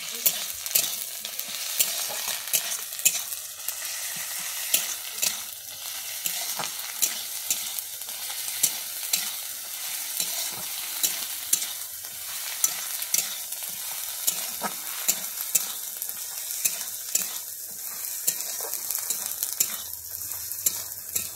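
Ground garlic paste fries in a pan at close range, a constant crackling sizzle cut by repeated rhythmic scrapes and taps of a spatula as it is stirred, with no talking.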